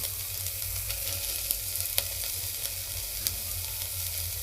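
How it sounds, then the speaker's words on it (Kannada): Vegetables, peas and beans fry in a pan for a veg dum biryani, giving a steady, close sizzle with a few sharp crackles and clinks from stirring; nobody speaks. "ಎಲ್ಲ ಹಾಕ್ಕೊಂಡು ಚೆನ್ನಾಗಿ ಫ್ರೈ ಮಾಡ್ಕೊಳ್ಳಿ."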